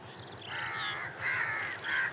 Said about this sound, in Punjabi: ਇਧਰ ਕਾਂ